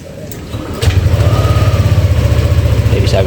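A Yamaha Aerox scooter with a starter fault cranks and catches, shifting from a quiet hum to a loud, steady pulsing engine rumble that continues close by.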